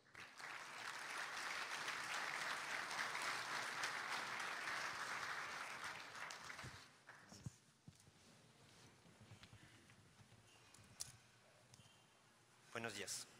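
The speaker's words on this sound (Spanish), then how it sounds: "para quien vamos a pedirle fuertes aplausos" An audience applauds a speaker taking the stage at a metro safety conference, a strong, even burst of clapping for about seven seconds that drops off abruptly, leaving scattered claps, footsteps and light room noise.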